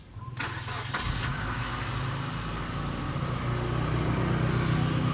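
A Suzuki APV Arena engine cranks briefly with the starter, catches, and settles into a steady mid-pitched idle close by, running continuously with no talk.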